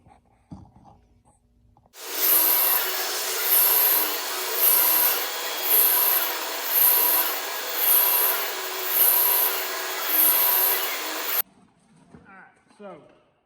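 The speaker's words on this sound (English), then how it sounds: "Let's do some milling." A milling machine faces off a damascus steel billet, giving a loud, continuous grinding cut that pulses in a regular rhythm about once a second, beginning abruptly after brief quiet and stopping sharply near the end.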